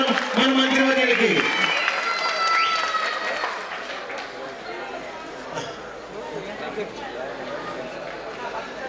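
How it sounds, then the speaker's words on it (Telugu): Audience clapping for government ministers at a Telugu film audio launch function, a broad wash of hand claps and crowd noise rising after a voice and continuing steadily at moderate volume. "ఒకసారి గట్టిగా చప్పట్లు ఇవ్వాలి మనం మన మంత్రివర్యులకి"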